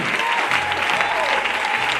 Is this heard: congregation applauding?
yes